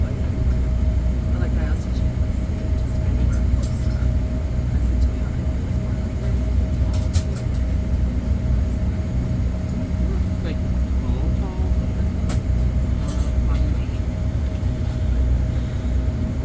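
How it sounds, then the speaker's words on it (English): Steady low rumble inside the cabin of an Airbus A320 taxiing at Cleveland's CLE airport while waiting in line for takeoff, with a constant engine hum, a faint tonal whine and scattered soft clicks and movements. "We're waiting in line to take off"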